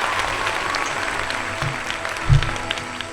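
A church congregation applauding, a short burst of clapping with crowd murmur, loudest around the middle of the clip.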